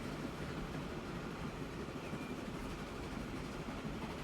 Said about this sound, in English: Go, go, train!